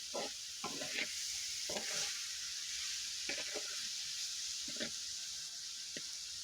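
Vegetable fry sizzles in a pan with a constant bright hiss, while a spatula scrapes and stirs in short repeated strokes up close.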